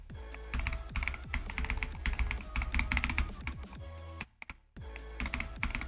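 Rapid keyboard typing and spam-clicking during a Cobwebs speedrun stream, dense clattering keystrokes running almost continuously with a brief pause near the end, fairly close and steady over faint background music.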